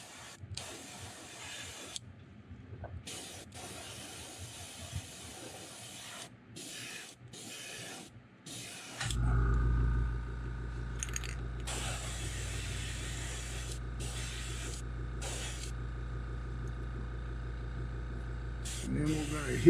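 An airbrush spraying gold paint onto a custom fishing lure, with soft intermittent hissy bursts first, then a louder steady spray and compressor-like drone, with a voice talking over it.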